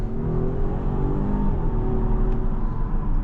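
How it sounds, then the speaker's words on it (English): A 2024 Volvo S90 Recharge Ultimate accelerating on the road, heard from inside as a steady low drone with a rising whirring tone and tire rumble, no talk. "I'm very impressed with the acceleration on this car"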